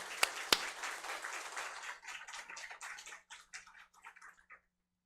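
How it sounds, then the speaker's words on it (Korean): A church congregation claps in a burst of applause at a church founding service, thinning out into scattered claps and dying away after a few seconds. "우리 큰 영광의 박수 하나님께 올려드리겠습니다"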